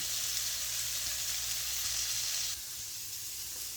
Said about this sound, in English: this is going to sizzle for another probably 8-9 minutes